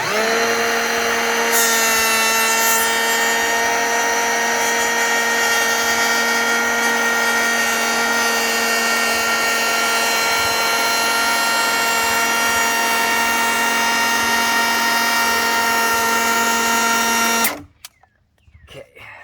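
A Milwaukee M18 battery power planer shaving the edge of a door that won't close, a loud steady high-pitched whine that holds for about seventeen seconds and then cuts off abruptly into quiet.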